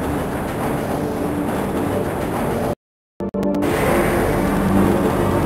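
A train rumbles steadily along with a constant low roar and rattle in the video game Half-Life, cutting out briefly for a moment before the motion noise resumes.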